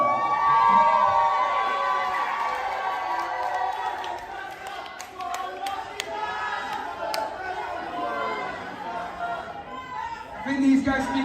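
A PCW wrestling crowd roars and chatters across a large venue, with scattered shouts and whoops, swelling and fading as a voice speaks over it.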